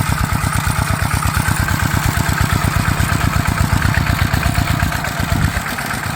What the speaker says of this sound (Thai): ลงได้เฉพาะรถไถนาเดินตามอันนี้